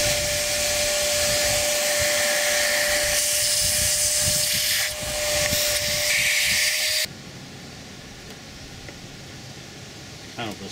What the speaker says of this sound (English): I'm gonna actually vacuum this here out.